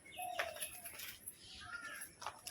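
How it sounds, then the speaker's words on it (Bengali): Faint pigeon coos mix with scattered chirps and a light flutter, heard at a distance against quiet background noise. "কিছু পায়রা আছে এর ভেতরে"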